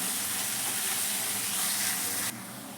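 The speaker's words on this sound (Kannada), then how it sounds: "ಈರುಳ್ಳಿ ಚೆನ್ನಾಗಿ ಫ್ರೈ ಆಗಿದೆ." Onions sizzle steadily in a hot pan after salt is added, a dense, bright, continuous frying hiss that drops noticeably quieter near the end.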